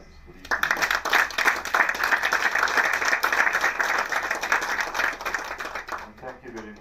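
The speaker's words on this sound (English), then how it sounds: "So I want the whole room to clap hands for these people." A room of people applauding at a presentation on drone surveying, dense sustained clapping that starts abruptly, holds loud and even, then fades near the end.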